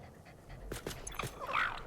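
A lizard-like dog creature in the Satisfactory video game pants in short, soft breathy bursts at close range, quiet and brief.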